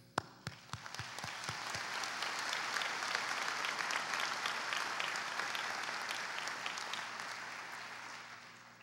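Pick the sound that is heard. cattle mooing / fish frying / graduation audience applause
graduation audience applause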